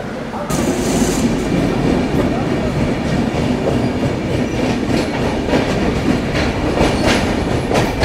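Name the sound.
passenger train leaving Nellore station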